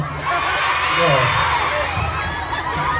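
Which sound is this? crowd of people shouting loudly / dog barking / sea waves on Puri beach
crowd of people shouting loudly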